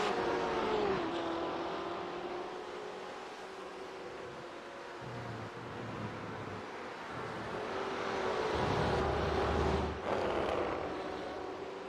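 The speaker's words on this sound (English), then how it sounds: "Oh, we've got a bunch of cars here." Several BMW race cars at Road Atlanta in an iRacing simulation, engines droning and shifting pitch as they run in a pack, steady and moderately loud throughout, with no speech.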